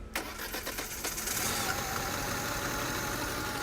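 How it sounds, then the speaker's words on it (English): A small motor that had seemed out of gas sputters and catches, then runs steadily and loudly, close by, with no talk over it. "Oh, we have a runaway motor."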